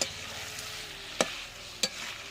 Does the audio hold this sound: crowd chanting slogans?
no